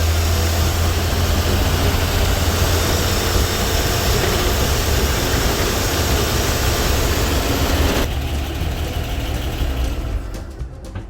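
A 1960 Grumman Olson Kurbside step van engine runs steadily at a warm idle, a loud, continuous low rumble that holds even before dropping off slightly near the end.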